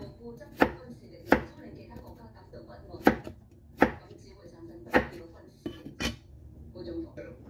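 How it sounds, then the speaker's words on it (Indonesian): A knife chops chayote on a cutting board in a home kitchen, sharp loud strikes coming at uneven intervals about a second apart, with softer knocks and clinks of utensils between them. "setelah kita potong ini labu siamnya"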